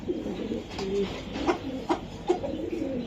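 Racing pigeons coo in soft, repeated low murmurs close by, with a few sharper rustles, in a seller's loft; no one speaks at this moment.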